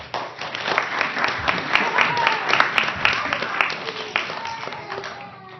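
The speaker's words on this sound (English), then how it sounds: "Everybody, join me in a round of applause for the shepherd from Jesus' story of the lost" Audience applause at a children's church program, a dense burst of many clapping hands with whoops and voices mixed in, loud and sustained before tapering off near the end.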